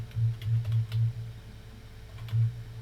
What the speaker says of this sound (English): So I'll type in a catch down here